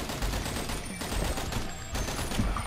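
Rapid, steady gunshots from the video game AWO: Shooter, a dense run of shooting that continues through the whole stretch at an even, loud level with no pauses.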